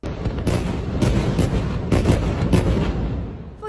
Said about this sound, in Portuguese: Foi uma série de explosões simultâneas provocadas por mísseis disparados por jatos israelenses.